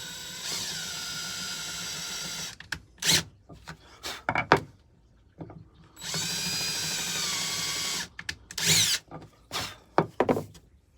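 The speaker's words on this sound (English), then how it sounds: "whenever you're drilling" A power drill whirs in several short, loud bursts separated by brief pauses, with clunks of handling in between.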